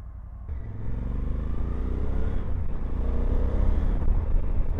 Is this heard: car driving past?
yes